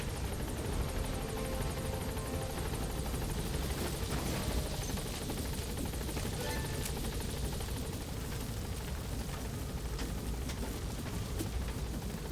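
Pequod helicopter from Metal Gear Solid V: The Phantom Pain, a steady rotor drone and engine rumble that stays loud and constant throughout, with no speech.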